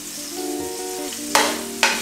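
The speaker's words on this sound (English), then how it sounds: "You fry them up, obviously they crisp up" Soft appetizer pieces frying in a salted pan, a steady close sizzle broken near the end by two sudden louder bursts of spattering as they are stirred around.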